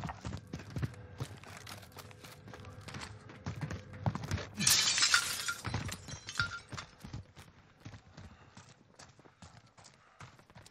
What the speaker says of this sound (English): I broke glass.